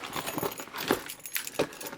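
Car keys jangle in several quick metallic bursts close by, with faint rustling between them and no talking.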